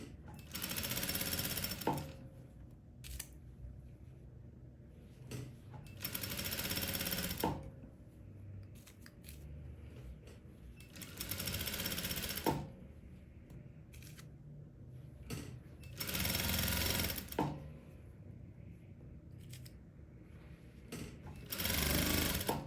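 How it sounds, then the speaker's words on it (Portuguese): A sewing machine stitches the side seam of a kimono in several loud, close runs of rapid whirring a few seconds long, separated by brief pauses and small handling clicks. "e aí é só ir passando a costura"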